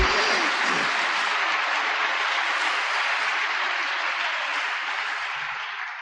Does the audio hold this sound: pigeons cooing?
no